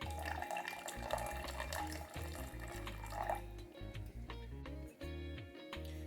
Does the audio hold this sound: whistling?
no